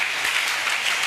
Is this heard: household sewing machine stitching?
no